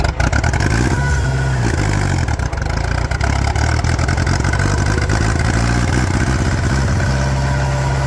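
An old tractor pulling a Minnesota hay rake, its engine grinding into gear and then running steadily with rising revs, loud and close throughout.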